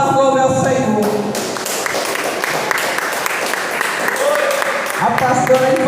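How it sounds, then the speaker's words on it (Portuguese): A church congregation claps in praise during a healing and deliverance service. Loud, dense clapping continues throughout, under sustained singing or a held vocal line and organ-like tones. "E as palmas louvam ao Senhor."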